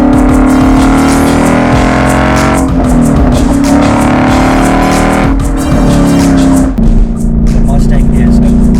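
A loud Ford Coyote V8 engine in a Mustang revs and roars continuously, its pitch rising and falling through several surges, with a voice talking over it.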